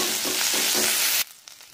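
Onion paste and ginger-garlic paste fry in white oil in a wok, a loud dense sizzle with soft stirring strokes that cuts off abruptly, leaving near silence and one small knock.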